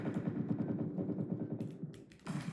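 Rapid automatic gunfire in the video game Entry Point, a dense continuous rattle of rounds lasting the whole moment and slightly muffled, with a louder burst near the end.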